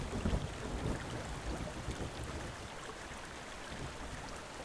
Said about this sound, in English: Enjoy the waterfall sounds, the waterfall cascade here with Senua